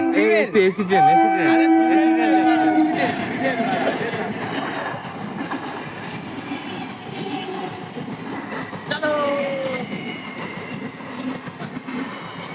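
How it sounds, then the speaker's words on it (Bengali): A train rolls past near a riverside bathing ghat, a loud, steady rumble with rhythmic wheel clatter that slowly fades, while people talk at first and a rooster crows faintly. "দোস্ত দেখো ট্রেন যাচ্ছে"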